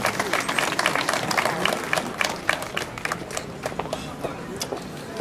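Audience applauding a candidate at the Miss Alsace 2013 election, sustained dense clapping from a crowd throughout, fairly loud and steady with a slight fade toward the end.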